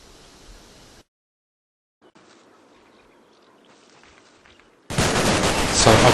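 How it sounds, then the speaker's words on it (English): Gunfire in the Combat Mission wargame, heard as faint scattered distant shots and crackle, a second of silence, then a sudden loud, dense burst of close firing at the end. "And these guys are still firing."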